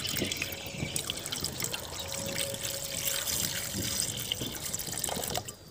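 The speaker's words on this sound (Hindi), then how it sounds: "चूना हम इतना डाल रहे हैं और इसके ऊपर हम डालने वाले इसको पानी को" Water pours onto lime inside a pressure cooker, a steady close trickle and splash with small drips, fairly quiet and with no talk.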